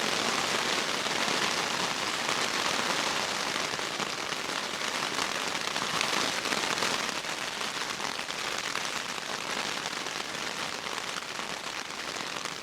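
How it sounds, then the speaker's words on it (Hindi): Heavy storm rain pours down continuously in the Lake District, a dense, loud hiss of drops drumming on nearby surfaces without letup and with no talking. "बारिश भी बड़ी तेज़ हो रही है"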